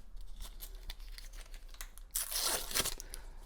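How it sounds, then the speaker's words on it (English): A paper wrapper is peeled and crumpled off a stick of butter, soft scattered crinkles building into a louder tearing rustle near the end, close up with no talking. "remove the paper"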